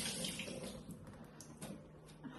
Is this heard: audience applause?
no